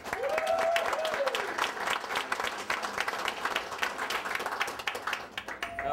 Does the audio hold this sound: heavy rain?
no